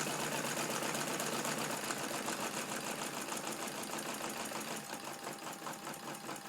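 A radial engine runs steadily with a fast, even clatter, its pulse easing slightly as it drops back toward idle near the end.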